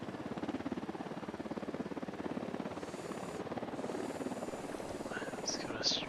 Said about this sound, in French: il y a un hélico qui fait une ronde aussi